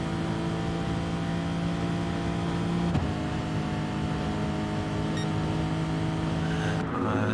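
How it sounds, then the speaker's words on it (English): Race cars, including a Citroen and a Lexus, speed along a track in a video game. Engines drone steadily and close by, and the pitch drops sharply partway through as a car shifts. "Alexis can begin chasing down the Citroen, who's weaving away on the straights to try and break the slipstream"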